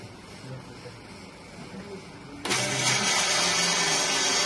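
A motor on a filter press lab unit starts up abruptly partway through, jumping from a quiet room hum to a loud, steady broadband whir that continues to the end.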